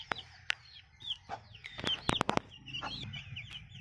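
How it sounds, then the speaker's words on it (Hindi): A hen clucks near her chicks in a home poultry setting, with a run of close, irregular clucks and soft chirps, some sharp loud bursts around the middle, over a low background hum. "तो यार इस मुर्गी के बच्चे इसमें हैं"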